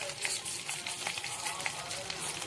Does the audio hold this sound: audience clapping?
no